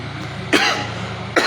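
Two sharp coughs from a man who is unwell, close to the mic, roughly a second apart, over a quiet low hum with no talk.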